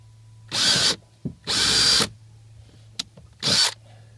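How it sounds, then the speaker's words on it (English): Power drill boring into the hull of a new plastic fishing kayak, three loud bursts of drilling close by with short pauses between, the third burst briefest. "Always feels funny to hit your brand new kayak with a drill, and obviously drills very easily because it's just plastic"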